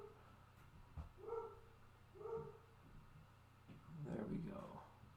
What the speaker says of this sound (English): You guys hear Puppy? Losing it up there.